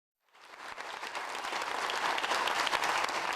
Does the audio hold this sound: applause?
yes